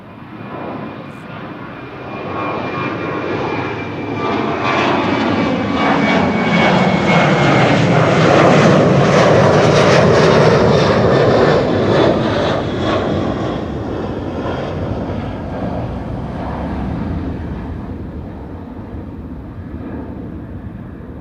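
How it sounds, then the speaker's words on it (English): A KLM jet airliner, flight 1615 bound for Milan, roars past at Amsterdam Schiphol, its engine noise swelling to a loud peak midway and then easing off but staying strong, with no voices over it. "KLM flight 1615 to Milan almost snuck past me"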